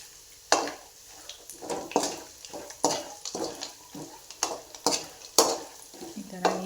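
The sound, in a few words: frying poha chivda ingredients together in one pan on low gas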